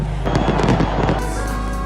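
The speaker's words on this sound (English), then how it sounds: "Thousands packed the Champs-Élysées in the French capital to watch the firework display at the Arc de Triomphe" New Year fireworks burst over the Champs-Élysées by the Arc de Triomphe in Paris, a rapid crackling cluster of loud pops and bangs rolling through a crowd's ambient roar, then easing into steadier background noise.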